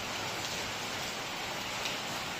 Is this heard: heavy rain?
yes